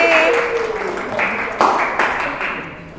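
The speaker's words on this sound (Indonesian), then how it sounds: "tepuk tangan untuk kelompok 1 sudah presentasi" A classroom of people clap steadily after a group presentation, moderately loud, while voices and a brief whistle-like tone sit over the applause.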